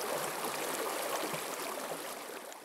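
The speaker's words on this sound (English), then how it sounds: "I mean, do you hear water?" Water rushing along Tincup Creek in Idaho, a steady close hiss and babble of flowing current with no voices.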